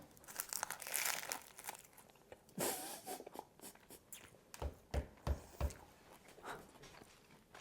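Someone bites into a homemade crispy nori salmon sushi hand roll cone, making close crinkling and crunching sounds, then several sharp bites and chews toward the end, with no talk.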